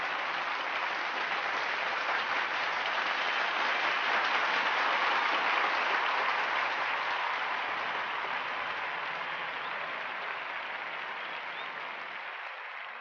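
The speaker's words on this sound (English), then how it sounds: "a deafening applause of 2 minutes followed." Prolonged thunderous applause from a large hall audience at the Parliament of Religions, a continuous wash of clapping that swells and then slowly fades, with no talk over it.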